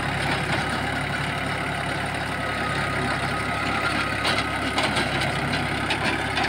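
A Mahindra Oja 2130 tractor with a rotavator crawls in low first gear at about 1400 rpm, giving a steady, dense engine drone with a mechanical rattle. It runs close and constant throughout.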